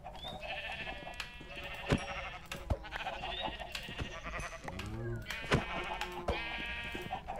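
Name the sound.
sheep bleating in a modded video game (CrafTopia)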